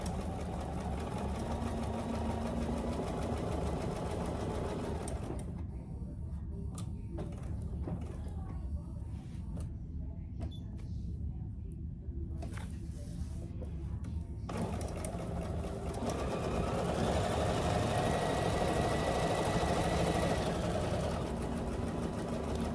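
A Bernina sewing machine bastes around an oven mitt at stitch length 6, whirring steadily and close by, dropping to a quieter, softer run through the middle before returning to full speed.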